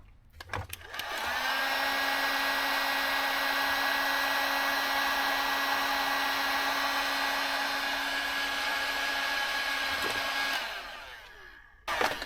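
A heat gun blows continuously for about ten seconds, shrinking heat shrink tubing onto cable terminals: a loud, steady whooshing roar with a high whine, close up, switched on and off at either end, no talking.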